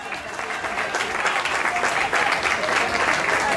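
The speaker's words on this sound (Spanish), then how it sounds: "un aplauso para ustedes" Crowd at a gay pride march in Iguala claps steadily and densely throughout, a continuous wash of applause from many people with no voice standing out.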